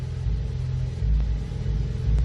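A cold Ford EcoBoost engine idles roughly with a steady low rumble, misfiring on cylinder 4 so the beat stumbles unevenly, heard close and continuous with no voices.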